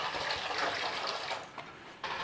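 Water gushing steadily into a cooking pot while preparing a classic orange steamed sponge pudding, a loud continuous pour with a brief dip near the end.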